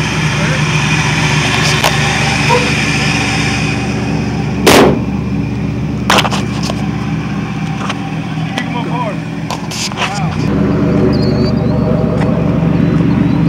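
A 1994 Chevrolet Camaro with a V6 cruises along a block, its exhaust a steady low drone that deepens and swells toward the end, with one sharp thump partway through and faint voices in the background.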